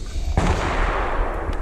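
A single loud rifle shot firing a 150 grain .30 caliber Badlands Bulldozer bullet from a 1:7 or 1:10 twist barrel, a sharp crack followed by a sustained rumbling echo.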